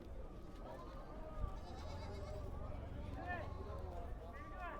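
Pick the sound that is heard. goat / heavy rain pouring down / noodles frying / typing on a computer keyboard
goat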